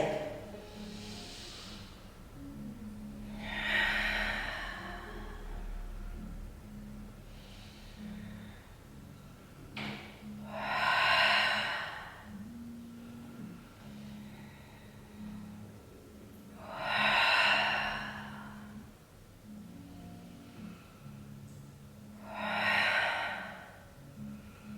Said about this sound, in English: take 4 big deep breaths into the hip